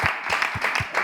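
A studio audience claps for Jerry Wisdom, with evenly spaced hand claps in a brief rhythmic burst, fairly close and without talk.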